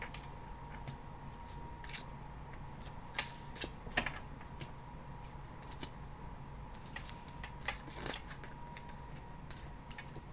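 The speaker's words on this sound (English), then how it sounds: "Let me shuffle these cards back in first." A deck of tarot cards is shuffled again and again, producing quiet, close riffles and soft slaps in irregular bursts over a steady faint background hum, with no talking.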